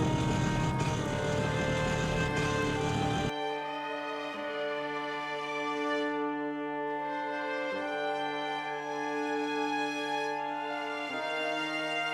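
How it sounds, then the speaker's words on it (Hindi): Auto rickshaw engine straining and overheating, a steady droning hum with strong harmonics that holds loud and continuous, briefly dipping in pitch a few times as it labours. "तुम्हारी गाड़ी तो रो रो कर चल रही है"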